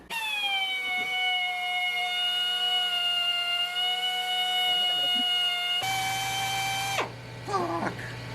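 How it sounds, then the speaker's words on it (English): A power drill bores holes for a custom hood support on a Nissan 240SX, giving a steady, loud, high motor whine for several seconds that shifts pitch, then winds down, with brief vocal sounds near the end. "Gotta drill this hole out now."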